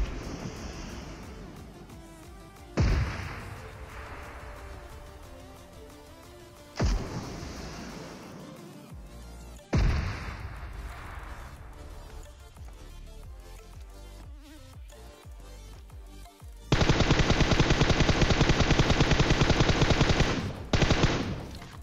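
Automatic gunfire in PUBG Mobile's Traverse insectoid mode comes as several sharp bursts, each rattling on and tailing off, then one long sustained loud burst near the end, with a buzzing insect-like drone between the shots.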